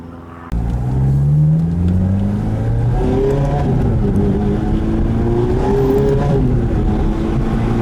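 Ferrari supercar engine, heard from inside the car leaving a supercar event, bursts into a loud rev after a brief quiet moment, then pulls hard with rising pitch through acceleration, staying loud and close throughout.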